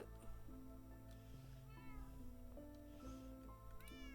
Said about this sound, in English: You can be the bee farm kitty cat.